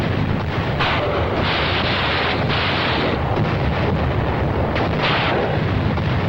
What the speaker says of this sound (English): The tiny island breaks into flames as naval gunfire hits enemy ammo dumps.